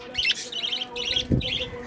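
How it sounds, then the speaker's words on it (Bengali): Pet baby birds chirping indoors in their room, a run of bright, repeated tweets in short bursts close by, with a soft low thump partway through. "অনেক পাখি এদিক ওদিক করে রয়েছে, সব আবার এসে বসেছে আমার হাতে"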